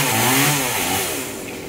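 A loud chainsaw engine roars close by, its pitch sliding down as the blade bites into a large mahogany tree near a house, then easing off.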